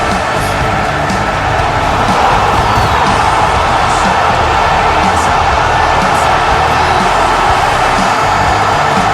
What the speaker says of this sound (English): this crowd is going absolutely insane for him